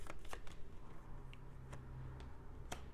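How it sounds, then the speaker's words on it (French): Tarot cards being shuffled, a quick series of soft riffling flicks and snaps at close range, with no voices over it. "Je vais juste tirer quelques cartes avec celui-ci avant de clôturer ce tirage."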